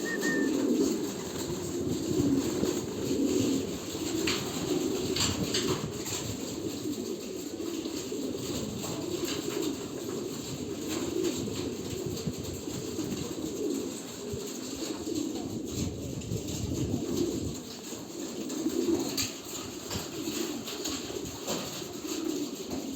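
Homing pigeons coo at the loft in soft, repeated low murmurs, several birds overlapping near the microphone with occasional wing flutters against a quiet background.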